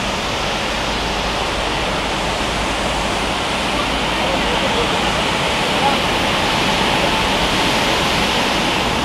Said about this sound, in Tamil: இங்கே பாருங்க ஃபால்ஸ்லாம்